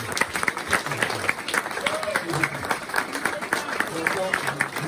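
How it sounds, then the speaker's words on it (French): A crowd at a solidarity gathering for people displaced from Goma claps in scattered applause, with voices and chatter mixed in throughout. "S'il vous plaît, applaudissez-vous"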